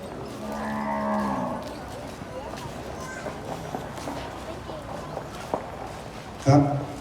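Cattle at a livestock fair in Wang Hin, Sisaket, Thailand, with someone talking throughout, soft shuffling and hoof sounds, and one short, loud moo near the end.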